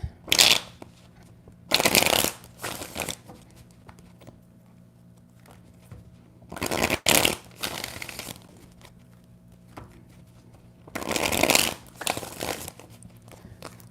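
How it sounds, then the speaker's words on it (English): Three separate bursts of cards being shuffled, each a crisp riffling flutter lasting about a second, with quiet pauses between them. "3 shuffles."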